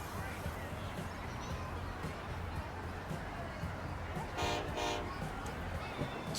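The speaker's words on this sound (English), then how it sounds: "we can race the freight train now" A freight train in Transport Fever 2 rumbles along with a continuous low drone, and a horn sounds twice briefly partway through over someone talking.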